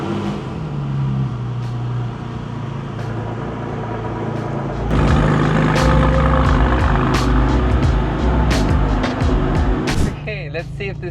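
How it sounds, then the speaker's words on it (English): An RWB Porsche cold-starts with a deep, bassy rumble that swells loudly and holds steady close by, while a person talks over it. "That's so cold start. This is so bassy."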